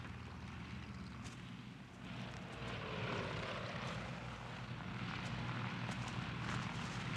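A propeller-driven airplane approaching to land gives a continuous droning engine hum that grows slightly louder midway, steady and unbroken with no talk.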